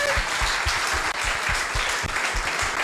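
An outdoor broadcast audience claps steadily in a dense, even wash, with a low rhythmic thumping underneath throughout.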